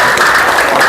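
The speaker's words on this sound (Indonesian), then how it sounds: "Oke, tepuk tangan kita semua" Classroom of students clapping together on cue, a dense, steady burst of applause close by with no talk over it.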